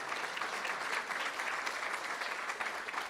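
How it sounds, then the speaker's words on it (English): Steady audience applause in a meeting room at a school board meeting, a continuous soft patter of many hands clapping, heard from a distance and fairly quiet throughout. "Let's give him one more round of applause."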